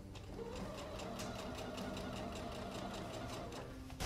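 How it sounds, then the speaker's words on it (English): Sewing machine stitching fabric for a shift dress, a steady fast mechanical needle rhythm running continuously at moderate volume. "I'm gonna do the last couple of stitches really slowly"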